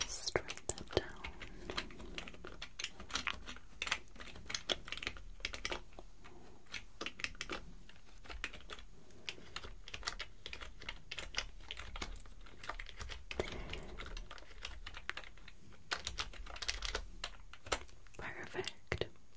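Rapid clicking on a computer keyboard during a mock job interview at an office, with soft whispered talk over the close, steady, fairly quiet keystrokes.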